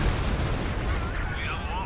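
Explosions destroy a forward HQ in the WWII strategy game Company of Heroes 2, a dense rumbling burst of blasts and debris under continuous battle noise, with a commentator talking over it.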